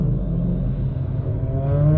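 Joyriders' cars speed past on a road, a loud, rumbling engine roar that swells and rises in pitch as they approach over about two seconds, with no talk.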